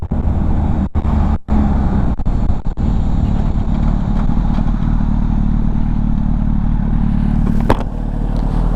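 A Honda CBR1000RR motorcycle accelerates hard from a standstill toward 60 mph, its loud close engine roaring continuously with brief dips at gear changes before settling into a sustained high drone.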